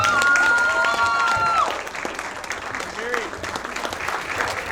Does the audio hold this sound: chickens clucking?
no